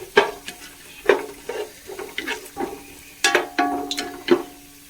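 Cashew nuts frying for chicken biryani, clattering and scraping in the pan with repeated stirring strokes over a soft sizzle, close up and with no talking.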